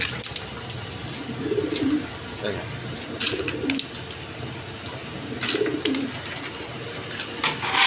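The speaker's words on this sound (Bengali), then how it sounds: "বোম্বাই কবুতর, ইন্ডিয়ান বোম্বাই, 2টা বাচ্চা সহ" A pair of Indian Bombay pigeons with two chicks coos in low, throaty bursts that repeat every couple of seconds, close by, over a steady background hiss with sharp chirps.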